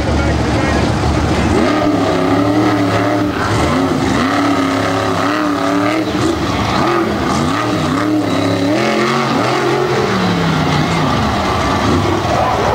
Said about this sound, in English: things up tonight with Monster Truck qualifying